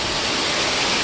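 Water pours steadily over a waterfall at a canal lock in Metamora, Indiana: a close, loud, continuous broadband rush with no breaks and no voices.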